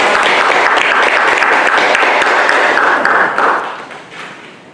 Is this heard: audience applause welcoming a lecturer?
yes